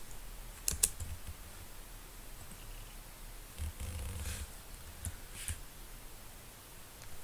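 Fingers type Python code on a computer keyboard, sparse clicks and short bursts of keystrokes with pauses between, quiet and close, with no talking.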